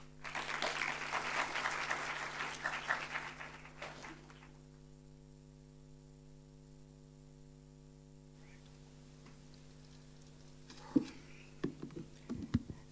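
Applause from the audience at a World Intellectual Property Day 2023 celebration, following the introduction of a chief executive. It is steady and moderately loud for about four seconds, fades into mains hum and near-silence, and a few faint claps follow.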